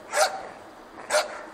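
A male Swedish Elkhound (Jämthund), a big dog, gives two sharp, loud barks about a second apart, close by and with no talking.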